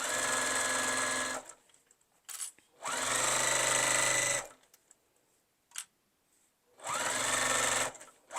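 Domestic sewing machine stitching an iPad book-sleeve case at a quarter-inch seam, running in three loud, steady bursts with quiet pauses between, close and alone with no talk.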